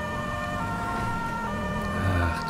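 Police car siren in GTA 5 with the LSPDFR police mod, a steady wailing electronic tone sounding continuously over a low rumbling vehicle engine.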